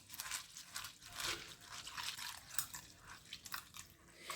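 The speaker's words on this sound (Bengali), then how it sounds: "প্রথমে 3 থেকে 4 বার চিড়েটা আমি চটকে চটকে ধুয়ে নেব।" Flattened rice (poha) being rinsed by hand in a bowl of water, squeezed and stirred, giving close, wet squelching and splashing bursts in an irregular rhythm, with no one talking.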